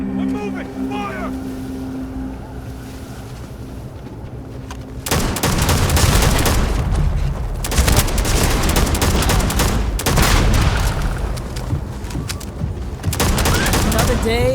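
Heavy sustained gunfire from a firefight in the sci-fi game Starfield, loud and dense bursts after a quieter opening with voices, volleys continuing to the end with brief lulls.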